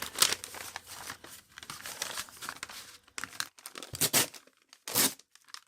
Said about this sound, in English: Give it a good tear.